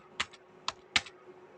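Typing on a computer keyboard during a Python programming lesson: three separate, close keystroke clicks, each crisp and short, spaced unevenly over a quiet background with no speech.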